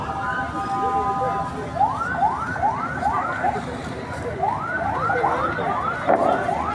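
An ambulance siren wails in a repeated rising sweep at a tense scene outside the MPR/DPR parliament building, fairly close and steady, with crowd noise and shouting voices around it.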